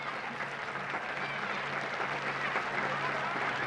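A football crowd at the Friendship Bowl in Meadville, Pennsylvania, on its feet in a standing ovation, sustained applause and cheering filling the air, with faint voices mixed beneath.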